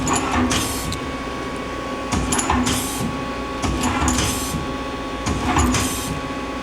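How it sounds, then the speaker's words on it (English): Turret indexing on a 2001 Daewoo Puma 230SA CNC lathe with Fanuc 18iT control, heard as four evenly spaced mechanical clunk-and-whir bursts over a steady machine hum and whine. "Turret index is good."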